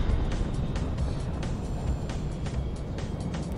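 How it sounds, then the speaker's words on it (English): Frame Shift Drive disengaging aboard a spaceship in Elite Dangerous, played in VR: a dense, steady roaring rumble that holds level for a few seconds with faint flickers of higher texture on top. "Disengage jump drive. Frameshift drive disengaging."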